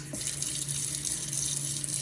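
Tap water runs steadily from a faucet into a sink, a continuous close splashing rush with no talk, as a crusty old Yo-Zuri fishing lure is about to be cleaned.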